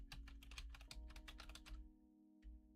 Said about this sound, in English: I just hear aggressive typing from the corner over there.